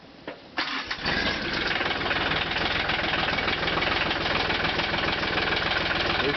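The diesel engine of a Mahindra Max 24 tractor cranks briefly, catches after about a second and settles into a loud, steady, knocking idle close by.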